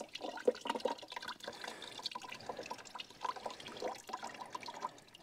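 A hand-turned cider press squeezes apple mash while juice drips and trickles steadily, a close, irregular wet patter with small squelches running throughout.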